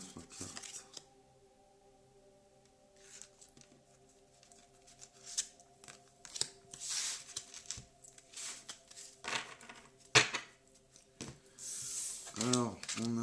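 Cards handled and drawn from a deck during a card reading: soft scattered rustles, slides and light taps, close by, over a low steady hum, with a voice talking between the movements.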